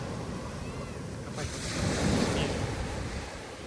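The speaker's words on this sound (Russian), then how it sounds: "Вот какие волны." Sea waves wash in on the south coast of England with a broad hissing surge that builds in the middle and fades, with wind noise throughout.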